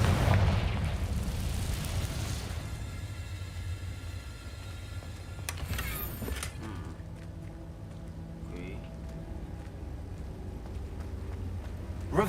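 A Confringo blasting spell goes off in Hogwarts Legacy, a loud fiery burst opening the moment and then fading into a low rumbling game ambience with a second sharp crack midway.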